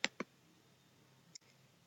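A computer mouse clicked a few times, with a quick double click at the start and a single click about a second later, close and crisp in an otherwise quiet room.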